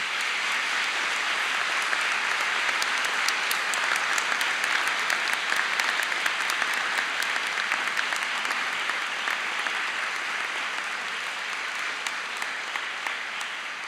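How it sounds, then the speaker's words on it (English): At a University of Dundee summer graduation ceremony, graduates give a long, sustained round of applause to friends and family, an even, dense hall-filling clatter of many hands that stays steady throughout. "can I ask our graduates just to give a round of applause to their friends and family to say thank you"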